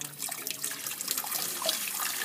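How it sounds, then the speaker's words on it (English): A tap runs steadily into a sink in a chemistry lab setting, a continuous close, bright splashing rush with small gurgles and drips, no voices. "we're going to let the water run for a while as directed by Ms. Shield."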